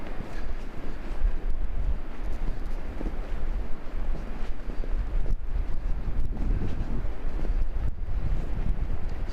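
Wind blows steadily and fairly loud at a remote campsite in Split Rock Lighthouse State Park near Two Harbors, Minnesota, a continuous rushing buffet across the microphone with no talking.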